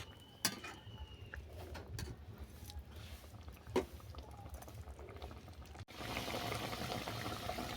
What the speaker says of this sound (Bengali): সাদা সর্ষে দিয়ে আরও আমি দু মিনিট ফুটিয়ে নিচ্ছি মোট পাঁচ মিনিট ফুটিয়ে নিচ্ছি